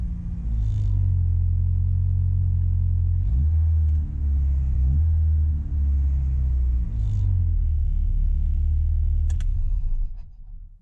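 A Classic Mini with a C16SE engine cranks, starts and settles into a close, loud, steady low rumble with a couple of brief revs before it dies away at the end.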